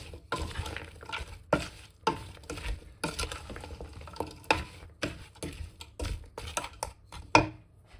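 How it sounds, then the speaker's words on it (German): Wild berry jam is stirred in a pot on the heat, giving a quiet, uneven run of scraping strokes with sharper knocks every second or so. A soft bubbling sizzle sits beneath the stirring. "Alles gut vermischen und weitere 5 bis 7 Minuten erhitzen und dabei ab und zu mal umrühren"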